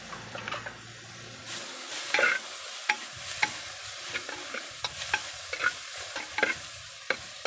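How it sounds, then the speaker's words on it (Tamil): Tomatoes sautéed and stirred in a clay pot for a quail curry. Soft scraping and stirring strokes repeat over a faint, close sizzle. "தக்காளியை சேர்த்து கொஞ்சம் வசக்கணும்"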